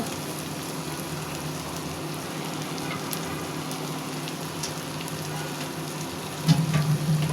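Shrimp frying in a spiced pan sizzles in a constant close hiss, then water hits the pan near the end and sets off a sudden louder burst of bubbling and sputtering.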